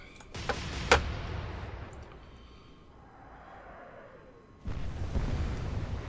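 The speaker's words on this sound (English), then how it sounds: "That was a big explosion." A deep, booming explosion erupts aboard the German warship Graf Spee during a naval battle in Atlantic Fleet, with a sharp blast near the start, a long fading rumble, then a renewed surge of noise.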